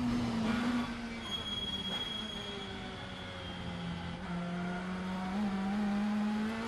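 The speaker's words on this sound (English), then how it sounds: "You can hear the engine straining with the gradient change up to Bergwerk." A WTCC touring car engine strains on the uphill climb toward Bergwerk at the Nürburgring, a loud sustained drone whose pitch rises and dips with the gradient, heard on board and alone without voices.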